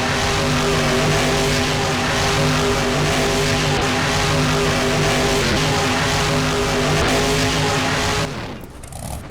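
A monster truck in a BeamNG Monster Jam freestyle game spins donuts, its engine roaring steadily and loudly throughout with tire noise mixed in, then dropping off abruptly near the end.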